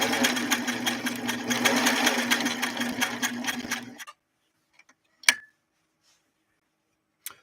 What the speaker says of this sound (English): let's see if we can get that zigzag that I was aiming for the first time on this model 457